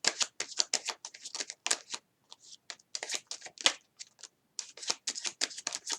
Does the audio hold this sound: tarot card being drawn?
yes